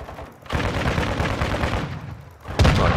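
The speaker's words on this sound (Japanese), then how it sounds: "ドドドドドドドンっていう銃声" Sustained burst of light machine gun fire in Call of Duty: Modern Warfare II, a dense rapid rattle running for about two seconds, then a louder, closer burst near the end, with no talking.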